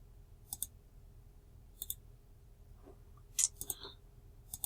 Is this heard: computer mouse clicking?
yes